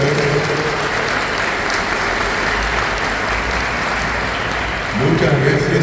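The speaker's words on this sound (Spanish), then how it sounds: "quiero pedir un nuevo aplauso" A congress audience at a regional gathering applauds loudly and steadily, a dense sustained wash of clapping with crowd murmur that swells again near the end.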